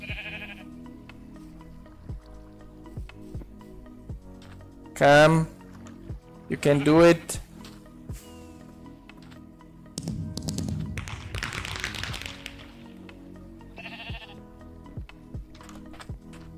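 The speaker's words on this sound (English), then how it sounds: "Here the sheep is swimming." Sheep in Minecraft bleat several times, short wavering calls in separate bursts. Someone talks between them, and keyboard taps click steadily in the background.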